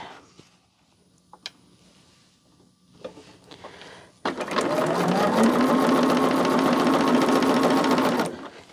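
A sewing machine stitches fabric pieces for a heart quilt. A few quiet clicks and handling sounds come first, then a steady, fast mechanical whir runs close and continuous for about four seconds before stopping.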